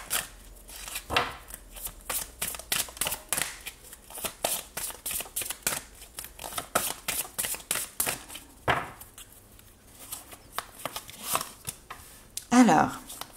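Tarot cards shuffled by hand for a reading, a close, continuous series of quick riffling and slapping flicks with brief pauses, under someone speaking throughout.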